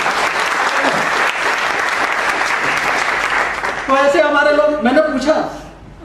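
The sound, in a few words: loud audience applause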